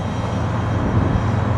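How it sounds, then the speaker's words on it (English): A Gillig Phantom transit bus passes by in Seattle, a steady low engine rumble with broadband road noise holding at a close, even level throughout, no voices. "there goes the Gillig Phantom"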